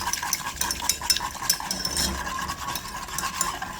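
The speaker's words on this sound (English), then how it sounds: "And I'm going to just whisk this." Whisking honey into a pineapple glaze for a traditional ham, with steady, light rhythmic clinks of a whisk against a bowl and soft liquid stirring, close and fairly quiet throughout.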